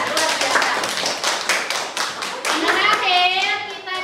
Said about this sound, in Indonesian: Ya kita kasih tepuk persegi untuk kelompok 3.